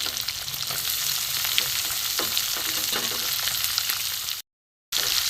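Chopped onion and tomato fry in a pan of oil on a kitchen stove, a steady close sizzle with occasional stirring scrapes, running continuously apart from a brief silent gap near the end.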